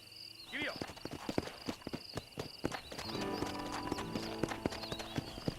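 Horse hooves clip-clop in a steady walking rhythm while riding in the video game Red Dead Redemption, close and clear, with a brief whinny near the start and a voice speaking over the hoofbeats.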